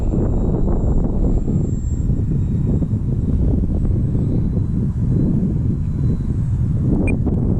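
A 750mm model Hawker Hurricane airplane comes in to land. Steady engine drone and wind buffeting sit close to the microphone throughout, and a faint high whine runs above them.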